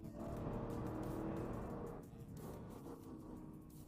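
A 2025 Chevy Suburban LS full-size SUV accelerating at full throttle, heard from inside as a steady, muffled engine roar with road noise that eases slightly partway through, no talking.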